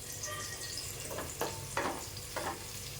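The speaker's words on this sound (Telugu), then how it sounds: "ఉల్లిపాయలు వేసుకుందాము. అలాగే పచ్చిమిర్చి," Sliced onions and green chilies frying in hot oil in a pan, with a continuous sizzle and three distinct scraping stirs of a spoon, close up.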